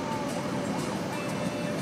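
A police-style siren wails from a button inside a car during reckless driving, a steady sweeping electronic tone heard close and continuous for a brief moment.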